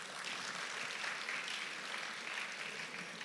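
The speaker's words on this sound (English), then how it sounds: "Please applaud them." Steady applause from an audience at an InCircle Creative Foundation event, a dense wash of clapping sustained evenly throughout without any voice over it.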